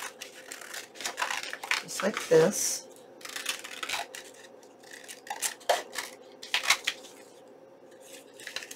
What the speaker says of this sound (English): let's change our scissors here and let's just trim this out